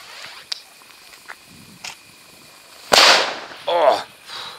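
A few faint pops, then one loud, sharp firecracker bang with crackling after it, and a second burst close behind.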